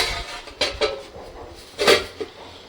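A lid goes onto a cooking pan in a home kitchen, with a few sharp metallic clanks and knocks spaced unevenly, one louder clatter near the end, close by and without speech.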